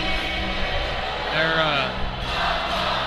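An arena crowd at a college ice hockey game in the Daytona Ice Arena sings. The many voices blend into a broad, distant, reverberant chorus that swells and fades, with no clear single speaker.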